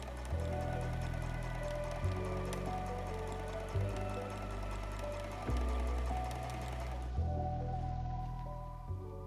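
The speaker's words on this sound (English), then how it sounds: "you can now sew the second set of stitches at 3/8 of an inch where you've already sewn" A sewing machine stitches the second row of a French seam, a steady close mechanical whir punctuated every couple of seconds by small bumps in its running sound, before easing off near the end.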